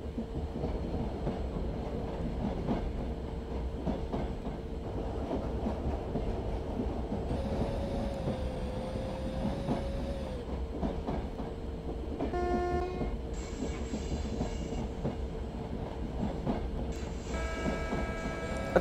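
Karnataka Express passenger train running on rails as another train overtakes at a skipped station, a steady loud rolling rumble throughout with brief high tonal whines and horn-like tones partway through, no talking.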